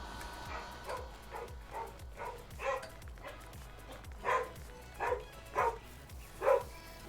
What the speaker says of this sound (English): That'd be the sound of a spaniel communicating with the postman.